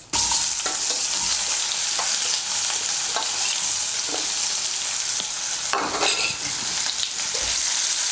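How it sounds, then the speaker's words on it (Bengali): Chopped onion fries and is stirred in a pan for a Bengali fish curry with potatoes, a loud continuous sizzle with light scraping taps of the spatula throughout. "পেঁয়াজ কুচিটাকে লাল করে ভেজে নেব"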